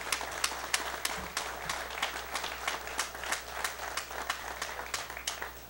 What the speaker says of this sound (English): Let's give the folks at Nalco a great round of applause for that